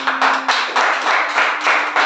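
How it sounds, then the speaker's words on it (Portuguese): A church congregation clapping in rhythm, close and loud, with regular bursts of hand claps about every quarter second over a faint sustained hum. "Palmas para Jesus."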